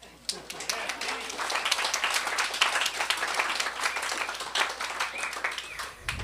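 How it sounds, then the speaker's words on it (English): An audience at a fall book-reading event gives a round of applause, a steady crackle of many hands filling the room for about six seconds before stopping abruptly, with some voices mixed in. "Could we just have a round of applause for Ken Carter?"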